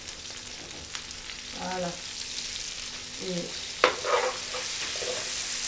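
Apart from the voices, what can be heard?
lamb sizzling in a pot for rougail saucisses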